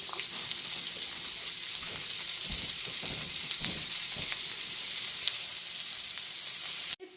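Asparagus stir-fries in a pan with a continuous, fairly quiet sizzle and occasional soft stirring taps, ending abruptly.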